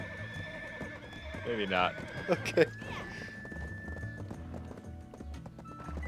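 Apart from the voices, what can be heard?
horse hooves and neighing in Black Desert video game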